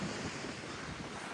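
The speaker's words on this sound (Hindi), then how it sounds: "आवाज़ भी आ रही होगी हवा की" Strong wind gusts across open grassland near Litham Thach on the Chandernahan Buran Pass trek at about 11,800 feet, a steady broad rushing roar buffeting close to the microphone, alone.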